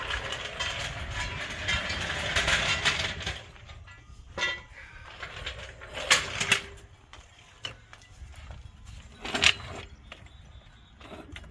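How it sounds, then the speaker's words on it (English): A car jack handle is cranked in a series of ratcheting clicks, a dense run at first and then scattered louder strokes, close by and with no talking. "you crank the handle, your jack's gonna go up"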